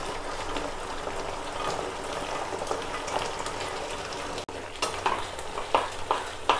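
Fried soybeans stirred into sauce in a pan for soybean chilli, a steady close sizzle with scraping strokes of a spoon, the stirring getting louder and choppier toward the end.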